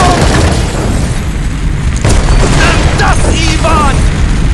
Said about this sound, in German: Granate in Deckung!